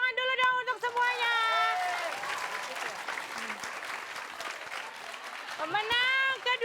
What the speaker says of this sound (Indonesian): Ya, tepuk tangan dulu dong untuk semuanya